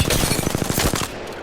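Rapid automatic gunfire in the game Apex Legends, a fast burst of roughly a dozen evenly spaced shots, loud and close, cutting off after about a second.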